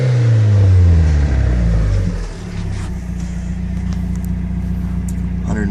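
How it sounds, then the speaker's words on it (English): A 1990 Mazda Miata with 105,523 miles and a fresh timing belt revs loudly with a rising, then falling engine note before dropping back to a steady, smooth idle. "Revving up."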